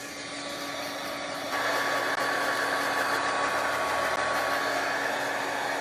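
A hand-held dryer blows air to dry ink for a black ice stamping technique, a steady whooshing whir that steps up in loudness and then runs on without talk.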